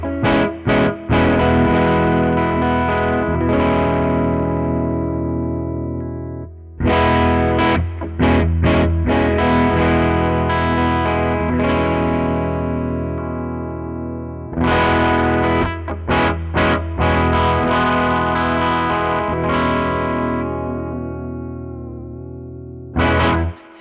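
A PRS SE CE 24 electric guitar on its neck humbucker, played through a Chimera overdrive plugin, drives thick distorted chords and riffs with short rhythmic breaks. It stays loud and close throughout, with no voices.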